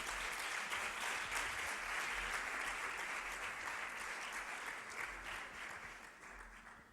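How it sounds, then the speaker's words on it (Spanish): An audience at a Spanish communication conference applauds as the speaker is introduced, a steady, moderately distant round of clapping that slowly fades toward the end, with no voices over it. "Un aplauso para él"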